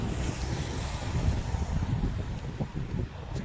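Strong wind blows outdoors in Dubai during a rainstorm, strong enough to knock over parked bikes; a steady, heavy roar buffets the microphone throughout with no voices.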